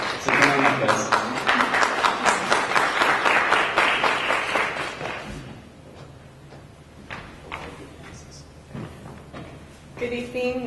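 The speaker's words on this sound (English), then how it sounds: "So if we can give a big round of applause for Karen and David, and also Michelle Bailey." Audience applause at a farm community evening gathering, dense steady clapping for about five seconds that fades, followed by quieter room noise and a voice speaking.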